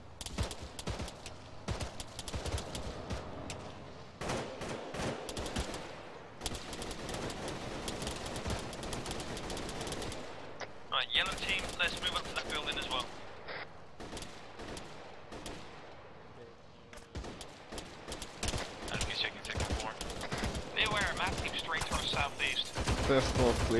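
Gunfire in the military shooter game ARMA 3 erupts in dense, overlapping bursts and volleys, loud and near with distant cracks mixed in, running almost continuously with brief lulls while players talk over the radio.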